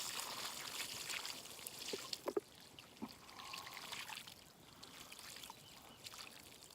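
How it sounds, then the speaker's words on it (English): Water trickles and splashes faintly as it is poured into a hole in the ground to make a deer bait site outdoors, a soft continuous dribble with a few small knocks. "we're just gonna pour it in here and just let it all drain into this hole"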